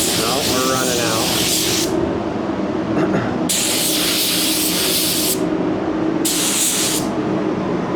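A spray gun lays a third paint coat onto a Chrysler vehicle with steady, loud hissing bursts that start and stop, heard close over a continuous background rumble.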